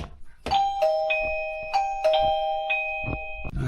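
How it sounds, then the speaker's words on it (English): Chime of a wireless video doorbell rings out in repeated two-tone ding-dong strikes, clear and near, sounding about five times in quick succession with ringing tails and no talk over it. "Right, so there's the chime."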